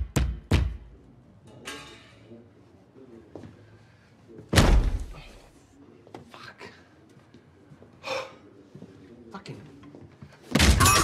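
Heavy impacts against a closed door during a police breach, several loud broadband slams spaced a few seconds apart with quieter shuffling and muffled voices between them.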